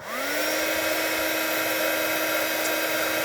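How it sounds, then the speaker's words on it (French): A heat gun used for heat embossing spins up and then blows as a loud, steady whirring rush of air, close and continuous with no talking. "avec mon pistolet chauffant. Donc ça va faire du bruit"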